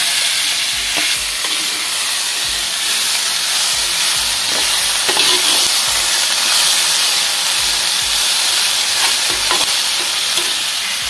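Athikkai (fig vegetable) sautéing in a pan gives a steady, close sizzle and hiss of frying, with occasional soft scrapes and stirring knocks throughout.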